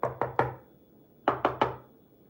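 A watermelon is knocked by hand to test ripeness, giving two bursts of three quick hollow thumps separated by a short pause, close and crisp.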